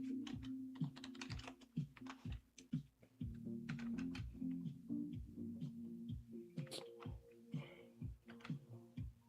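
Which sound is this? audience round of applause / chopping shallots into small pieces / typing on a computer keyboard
typing on a computer keyboard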